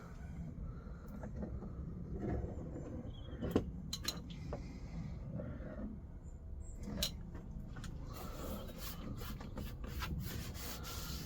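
Sandpaper rubbing over 56-year-old lino in a Peugeot Boxer Mk1 campervan conversion, a soft, close, continuous scratchy scrubbing with occasional light knocks, quiet and without speech.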